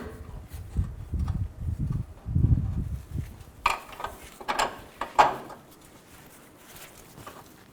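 A ratchet tightens the bolts and nuts on the idler arm of a 2000–2006 Chevy Tahoe during an oil pan job, in short bursts of clicking with metallic clinks and pauses, fairly quiet and close.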